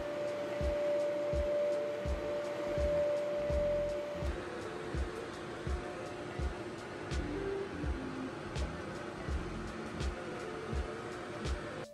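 CO2 laser cutter from the Gweike Cloud Pro 2 cutting plywood at 600 mm/s, a steady fan and air-assist hum with regular pulsing motion clicks of the head, close and continuous with no talk.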